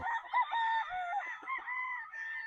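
A gray straight-comb battle stag rooster crows close by, a faint, wavering call that rises and falls over a couple of seconds, with no other sounds.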